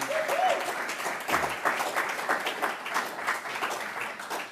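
A symposium audience gives a round of applause for an event organiser and her team, a steady wash of many hands clapping from a large room that holds evenly for several seconds without a break.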